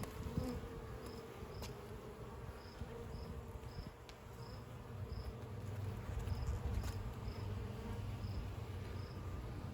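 Honeybees buzzing during a hive inspection, a steady, soft, dense drone that holds throughout with no talking.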